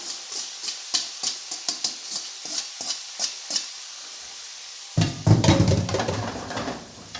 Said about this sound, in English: Put your leeks in the pan.